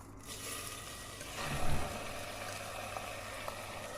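Chicken pieces frying in half a cup of hot oil for ginger chicken, a steady close sizzle and bubbling with a louder burst near the middle as the meat settles, no voices.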